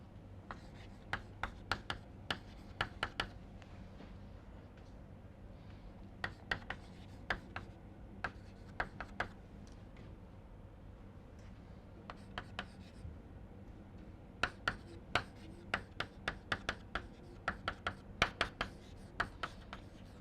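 Pen or chalk writing out an equation by hand in a lecture, a quiet series of sharp scratching strokes coming in irregular bursts with short pauses between them, close by, with no talking.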